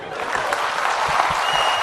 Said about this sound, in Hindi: तो जोरदार तालियां भरत के लिए हो जाएं।